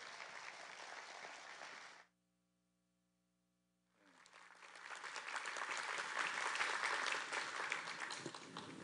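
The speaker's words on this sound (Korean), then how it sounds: "세미학교에 보낼 수 있는 가장 큰 박수로 환영하시겠습니다" A church congregation at a revival meeting applauds to welcome a pastor: sustained clapping, then a two-second gap with a faint hum, then applause returning and swelling louder, many hands together and moderately distant.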